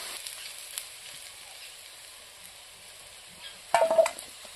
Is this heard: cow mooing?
no